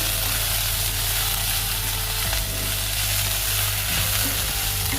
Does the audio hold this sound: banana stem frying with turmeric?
yes